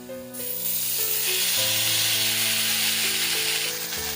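Fresh green herb leaves dropped into a hot pan over medium flame for a cold and cough home remedy, setting off a loud, steady sizzle that jumps in early and holds throughout, with faint tonal hum underneath.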